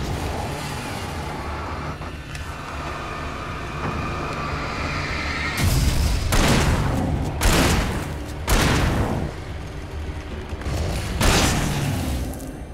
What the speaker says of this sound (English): Shoot your goddamn gun.